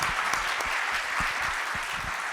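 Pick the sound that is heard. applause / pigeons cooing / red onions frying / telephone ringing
applause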